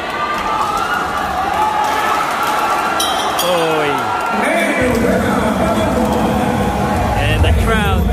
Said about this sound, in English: And the crowd liking the action.